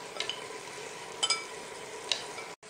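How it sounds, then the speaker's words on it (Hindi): A spoon stirs spices in a cooking pot over a faint steady sizzle, giving a few sharp metallic scrapes and clinks spaced about a second apart, close and fairly quiet. "1 मिनट इसको चम्मच से मिक्स कर लेते हैं पहले"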